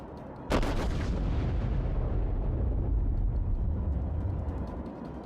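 A US battleship New Mexico in World of Warships fires a loud, booming salvo that rumbles on and slowly decays over several seconds, with no voices.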